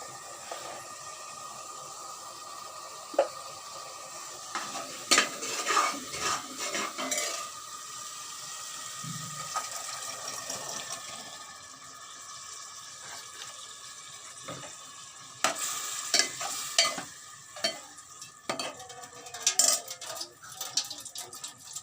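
Dal and fried spices are stirred in a pressure cooker, with scattered metal scrapes and clinks of a spoon against the pot over a faint, low sizzle; bursts of stirring come and go.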